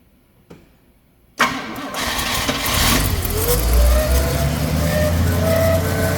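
After a brief quiet click, an AMC Marlin engine cranks and roars to life, then settles into a loud, rough, steady running rumble, with a spinning clutch audible.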